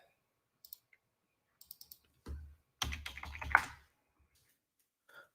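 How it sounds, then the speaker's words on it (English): A computer keyboard is typed on in scattered bursts: a few light, isolated clicks, then two denser clusters of keystrokes, all close and fairly quiet against an otherwise silent room. "Am I typing that in wrong?"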